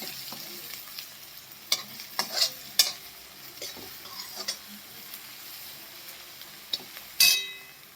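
A spoon stirs a spoonful of turmeric powder into sprouted moth bean curry in a pan, giving soft frying sizzle under scattered clinks and scrapes of the utensil against the pan, close and fairly quiet, with no voices.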